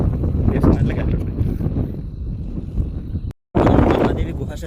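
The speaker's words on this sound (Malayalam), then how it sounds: "നല്ല കാറ്റുണ്ട്, നല്ല തണുത്ത കാറ്റാണുള്ളത്" Strong, cold wind buffets an outdoor hilltop site near a cave temple, rumbling loudly and continuously into the microphone with a brief dropout, while a person talks over it.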